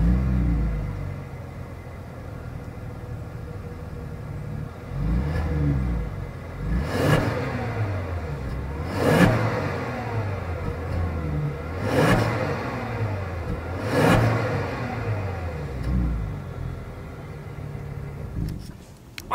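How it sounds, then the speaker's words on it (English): A car revving through a dual exhaust with quad chrome tips gives a deep rumble, with four loud revs rising and falling at a steady pace, close and alone. "As always, here is that exhaust clip."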